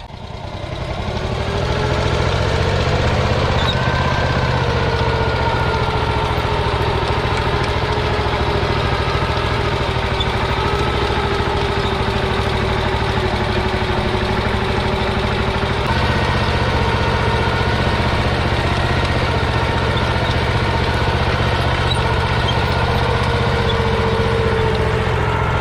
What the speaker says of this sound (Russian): ретро-трактор Ransom's MG6 1953 года с одноцилиндровым бензиновым двигателем